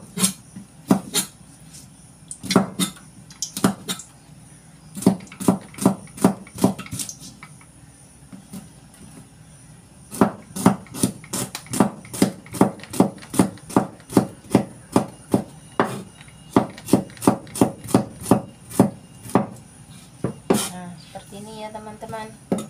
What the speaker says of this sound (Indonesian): aku potong bawang merahnya